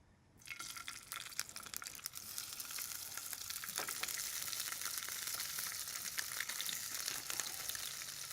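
Slices of togarashi-spiced pork belly sear in a hot pan, a dense, steady sizzle and crackle of rendering fat that starts abruptly after a brief quiet moment and holds loud and close throughout, with scattered sharper pops.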